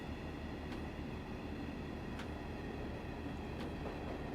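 A Class 142 diesel multiple unit in the game Train Simulator pulls away from Lancaster station, a steady low rumble and hiss of the train with a few faint rail clicks spaced across a quiet, even sound.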